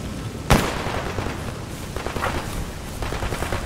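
In the shooter game S.T.A.L.K.E.R. Anomaly, a grenade goes off with one loud, sharp blast, followed by a rumbling tail and scattered bursts of gunfire.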